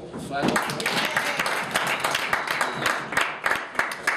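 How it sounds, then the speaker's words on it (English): Audience applause fills a room after a call to honor a man, dense steady clapping with scattered voices and cheers mixed in throughout. "Let's give a big round of applause for Bill."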